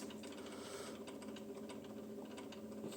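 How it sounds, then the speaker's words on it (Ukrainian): A ventilation fan runs in a boiler room where a boiler has been smoking, giving a steady, close mechanical whir with a faint rattling tick that holds evenly throughout. "О, вентилятор заработал."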